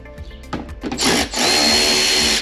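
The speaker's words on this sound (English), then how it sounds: "we are going to remove the 4 screws right here" A handheld power drill backs screws out of the fender flare on a 2022 Toyota Tundra, with short whirring bursts building into a loud, sustained high-pitched spin close by.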